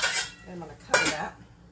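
A metal lid set onto a pot of boiling pasta shells gives a couple of close, bright clinks and a short scrape, the second contact louder, with faint kitchen background around it.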